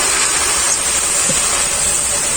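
Water hisses steadily in a hot wok as soy chunks are boiled, a continuous close, loud broadband sizzle with no pauses throughout.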